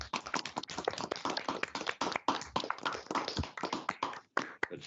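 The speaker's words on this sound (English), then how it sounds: "perhaps we ought to give a round of applause for Herman and Mike and Greg and the team" A round of applause for the conveners at a hackathon awards ceremony, dense, steady clapping from a crowd of participants, sustained throughout with a brief dip near the end.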